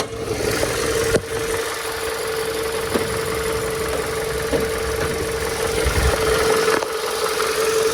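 A 2005 Toyota Caldina automatic sport wagon with a 1AZ engine idles steadily, a constant mid-pitched hum with a faint recurring knock, heard close and alone without talking.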